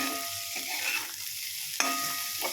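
Chilli powder, salt and turmeric are stirred into a sizzling flat bean and coconut curry in a pan, a steady close fry hiss broken by a couple of scraping stirs.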